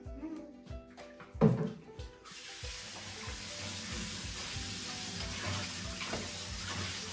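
Tap water runs steadily while strawberries are rinsed by hand, a broad continuous hiss that starts after a few clattering handling sounds and continues with soft splashes.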